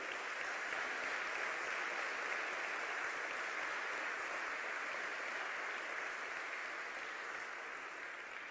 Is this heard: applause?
yes